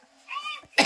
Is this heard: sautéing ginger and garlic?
no